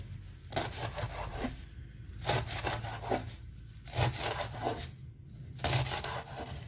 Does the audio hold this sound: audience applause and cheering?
no